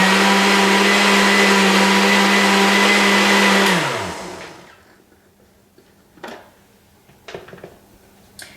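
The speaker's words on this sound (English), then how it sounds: "I don't have the best blender, okay guys? It makes a lot of noise." A blender making a smoothie whirs loudly and steadily for several seconds, then winds down and stops, leaving faint clatters behind.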